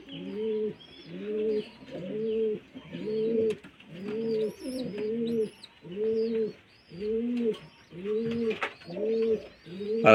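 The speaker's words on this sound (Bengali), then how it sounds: "চলুন আরেক জোড়া পায়রা দেখায়।" Pairs of pigeons kept at home, including a fullsira-type youngster, coo in a steady repeated rhythm of low rolling calls, about a dozen phrases close by with no talk.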